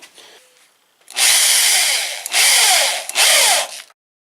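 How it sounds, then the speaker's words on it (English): A power drill whirs in three loud, close bursts drilling holes for an LED license plate light, the first the longest, with brief pauses between, after a moment of quiet handling noise. "go around and drill the holes out for the actual light"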